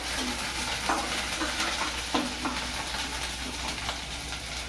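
Ginger and garlic frying in a pan for a Marathi green bean dish, stirred with a spatula: a steady, close sizzle with a few scraping strokes, no talking.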